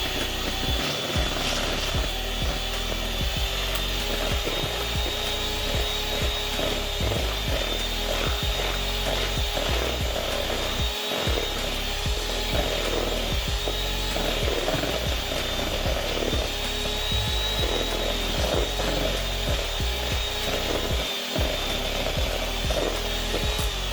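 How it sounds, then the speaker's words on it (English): A hand or stand mixer beats butter for strawberry butter, a steady, loud mechanical whir with a faint clicking rhythm running unbroken for the whole stretch, with no talking. "I'm going to go ahead and mix this again for about another minute"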